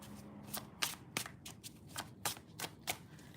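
A deck of cards is shuffled and riffled up close, giving a quick run of crisp flutters and taps with no talking.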